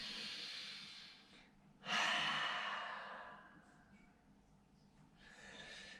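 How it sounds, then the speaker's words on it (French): Deep breathing in a parent-and-child yoga session, first a long exhale, then one strong, drawn-out inhalation heard up close and then a softer breath, with no talk over it. "Et puis on inspire."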